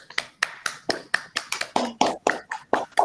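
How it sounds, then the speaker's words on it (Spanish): A small group claps for the presenters at an online lecture series with open microphones: about a dozen separate, fairly crisp claps in an uneven, steady beat, moderately close, with no talking. "le voy a pedir que podamos abrir los micrófonos y hacer un aplauso"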